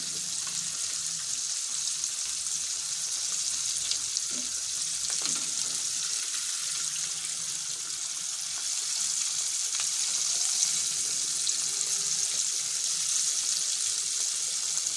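Fish coated in homemade masala fries on a low flame, a steady, even sizzle and crackle running throughout with no voices, close and continuous.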